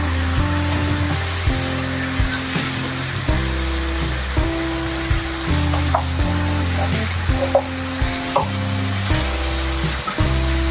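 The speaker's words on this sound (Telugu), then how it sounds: "వేగుతూ ఉంటాయి మనవి ముక్కలు" Banana pieces shallow frying with turmeric in a pan, a steady close sizzle with soft crackles and occasional stirring scrapes, no voices over it.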